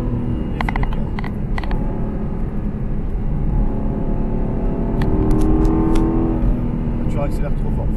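Aston Martin car accelerating on a track, a steady loud engine rumble that rises in pitch toward the middle, with an instructor talking over it throughout.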